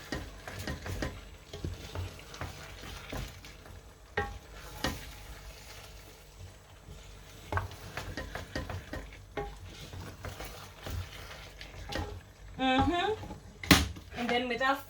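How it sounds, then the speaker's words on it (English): Prawns being folded and stirred in a pot, soft scraping strokes and light sizzling spread across the stretch, with someone talking over the cooking sounds at times. "my sister was gonna stir that up while I quickly fold in my prawns"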